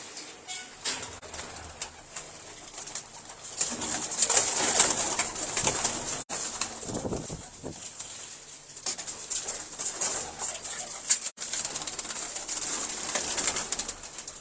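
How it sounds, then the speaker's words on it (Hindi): Pigeons coo steadily in the background, with bursts of wing flapping and fluttering up close, while birds shuffle around throughout, at a pigeon sale. "पहले कबूतर आपको चंद पकड़ के दिखा दे"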